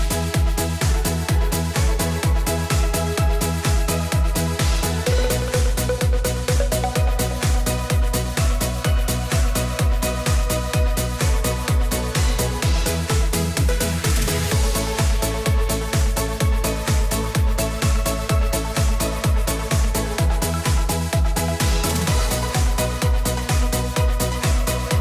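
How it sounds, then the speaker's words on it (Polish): Instrumental schlager track with a steady pulsing beat, bass and layered synth and melodic lines, playing continuously and loud throughout with no voices. "Fragment instrumentalny tej właśnie premiery brzmi tak, posłuchajcie."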